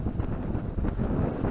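Wind buffets the microphone aboard a motorboat at sea running at 1500 rpm into a 12-knot wind from three-quarters ahead, a loud, rough gusting rush over a low rumble, no talking.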